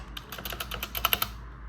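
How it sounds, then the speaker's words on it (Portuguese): Keys clack on a Redragon Kumara mechanical keyboard fitted with brown switches, about a dozen quick, close strokes in an even burst, fairly quiet, with no talk. "Aqui é a diferença do barulhinho de um teclado Switch Brown."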